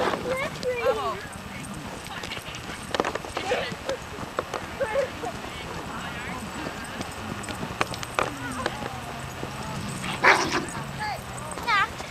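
Dogs bark and yip in bursts at a county dog park, scattered across busy outdoor clatter, with people talking throughout and a louder yelp near the end.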